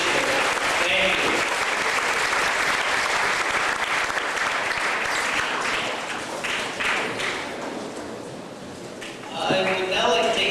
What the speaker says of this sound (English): please give yourselves a round of applause for taking part in an important initiative